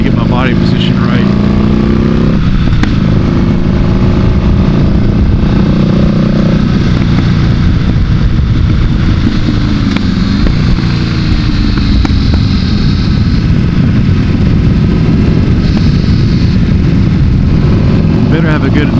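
A Buell motorcycle rides a warm-up lap on the Tail of the Dragon road in 2025, its engine droning loudly and continuously under heavy wind rush while a rider talks over it.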